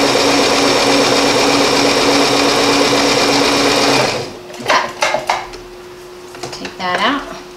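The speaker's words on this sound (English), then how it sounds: "Just sew it." Sewing machine stitching a straight seam, a loud continuous close-up whir for about four seconds, then stopping, followed by clicks and rustling of fabric as a voice speaks briefly.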